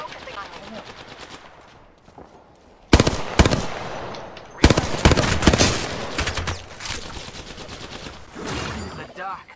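Automatic gunfire in the Apex Legends video game: bursts of loud rapid shots, some sustained volleys, mixed with game sounds and a voice speaking.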